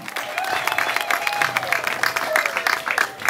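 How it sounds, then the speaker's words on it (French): A gathering at a new radio station's launch in Kikwit applauds the deputy coordinator, lively clapping from a modest crowd with some cheering and voices underneath. "Est-ce qu'on peut applaudir pour lui?"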